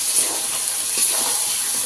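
Fish bones stirred into a spice masala that has been cooked until the oil separates, giving a steady, bright, close sizzling hiss that continues without pause and without talk.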